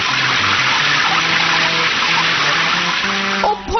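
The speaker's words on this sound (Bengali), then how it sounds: "আর এই শেষ রাউন্ড হলো নোংরা জলের ধারা বর্ষণ।" A loud, continuous stream of dirty water pours down in a steady gushing rush, with a tonal melody running underneath throughout.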